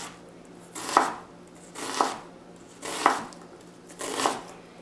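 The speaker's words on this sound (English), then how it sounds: "So we want small little diced pieces of onion for this recipe. And now we're going to chop across." A knife chops across an onion on a cutting board to cut it into small dice, making four evenly spaced crisp thuds about one second apart, close up with no talking.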